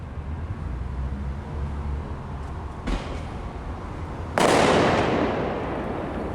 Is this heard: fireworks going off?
yes